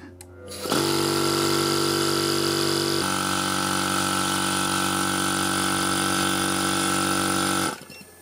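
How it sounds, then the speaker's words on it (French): A 1800-watt electric air compressor powered by a Parkside portable power station starts up and runs with a loud, steady motor hum and a mechanical drone for several seconds before cutting off. "Là, c'est un compresseur, c'est annoncé à 1800 watts."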